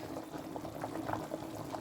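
Kuzhambu curry boiling in a pot, a close, steady bubbling with soft pops and gurgles spread evenly through the short stretch, no talk over it.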